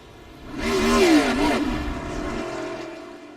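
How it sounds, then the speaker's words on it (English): A race car engine at the Charlotte Roval road course roars past, rising to a loud whine with a falling pitch sweep as it passes close, then fading into a lingering drone. "You hear the engine."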